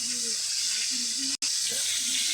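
Silver carp fish head fries in a pan of oil, giving a steady loud sizzling hiss close up that runs nearly unbroken for a couple of seconds with only a brief gap.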